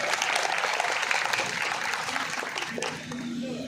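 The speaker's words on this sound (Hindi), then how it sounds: "आप सबके नाम पर एक बार जोरदार ताली बजा करके स्वागत कर लीजिए" Audience applause at an election campaign rally in Rasra, India, a dense burst of clapping from a crowd that holds steady for a few seconds before starting to thin out.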